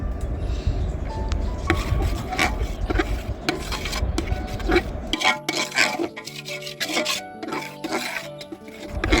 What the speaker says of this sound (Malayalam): ഈ മിശ്രിതം ഈ കുറുക്കിലേക്ക് ഒഴിച്ചു കൊടുക്കാം എന്നിട്ട് നന്നായി ഇളക്കണം